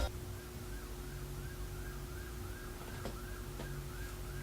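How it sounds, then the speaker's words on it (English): A wailing siren sweeps up and down repeatedly in a steady cycle, held at a moderate level over a low rumbling background with a couple of brief clicks. "Siren."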